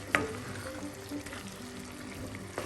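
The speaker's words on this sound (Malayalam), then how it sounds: "കറിയൊക്കെ നല്ല തിളയ്ക്കുന്നുണ്ട്" Potato masala curry boiling in a pan, with a steady, soft bubbling and sizzling simmer, close and fairly quiet, with a faint clink near the start and no talk.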